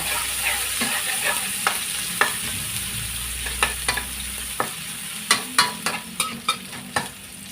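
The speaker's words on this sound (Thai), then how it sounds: "ตั้งกระทะน้ำมันร้อนใส่พริกกระเทียมค่ะ" Chili and garlic sizzle steadily in hot oil while a spatula scrapes and clinks against the pan in irregular strokes, close and without talk.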